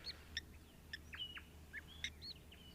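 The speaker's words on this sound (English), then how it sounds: "their vocalizations really are a very cool little bubbly sound." Sandgrouse give short, bubbly chirping calls in a scattered series over quiet morning bush ambience, fairly close and clear.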